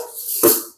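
Mustard seeds drop into hot oil in a pan while a Kottayam-style tuna fish curry is being cooked, giving one short, close burst of sizzle that quickly fades.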